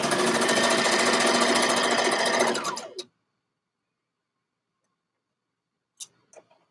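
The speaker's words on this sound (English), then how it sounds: "So I'm going and stitch the sleeve now." A sewing machine stitches a dress sleeve in a loud, fast, steady run for about three seconds, then stops abruptly, followed by silence and a few faint clicks.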